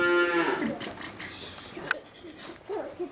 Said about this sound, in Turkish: Bir günlük kuzu onlar.